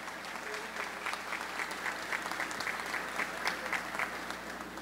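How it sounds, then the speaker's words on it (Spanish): Steady applause from an audience at the official opening ceremony of the 28th Expo Santa Rita 2022, honoring the organizing committee; dense, even clapping fills the whole stretch with a few sharper claps standing out, no voices over it. "les pido un fuerte aplauso a toda la comisión directiva de la Expo Santa Rita"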